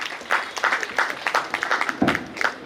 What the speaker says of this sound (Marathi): अचूक उत्तर दिल्याबद्दल श्रोत्यांसाठी टाळ्या एकदा.